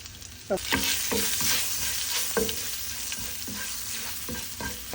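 Mustard seeds and garlic sizzle in hot oil in a large kadai for a tempering for mango dal, with a steady loud fry and repeated close clicks of stirring.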